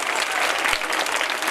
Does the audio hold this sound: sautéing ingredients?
no